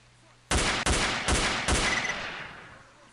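Four loud, close gunshots ring out from a rifle in the video game STALKER, fired in a quick, uneven sequence, each with a sharp crack and a ringing tail fading into quiet.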